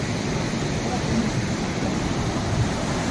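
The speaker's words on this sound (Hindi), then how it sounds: "ये देखो ये तीसरा झरना हमारा घोघरा का" Constant broadband rush of falling water, steady and enveloping, like the Ghoghra waterfall at Rakhikol heard from nearby.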